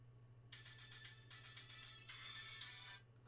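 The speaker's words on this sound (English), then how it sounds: "my phone decided to Rickroll me" A phone speaker plays a song in a tinny, thin tone, starting after a brief quiet and running in three bright bursts, with no talking.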